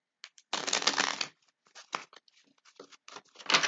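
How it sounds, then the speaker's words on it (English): Tarot cards being shuffled by hand, a dense papery riffle burst followed by several shorter flicking and sliding bursts, close and fairly quiet with no talk. "I'm gonna shuffle them real quick."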